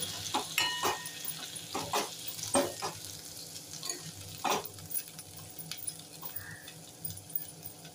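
Steamed vegetables stir-fried in a pan with a spatula, close scraping and stirring strokes over a gentle sizzle, irregular and moderately loud.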